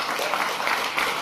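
A crowd in a parliamentary chamber claps steadily through a short burst of applause, loud and continuous with no gaps.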